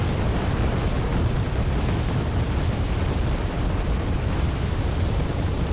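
Mortar rounds bursting continuously in a war video game battle in Stavanger, a dense, loud rumbling barrage of overlapping blasts with no clear gaps.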